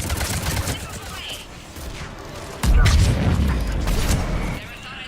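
Missiles launched and exploding in Mass Effect, a rattle of distant fire followed by a sudden heavy booming impact that rumbles on, with voices speaking in the background.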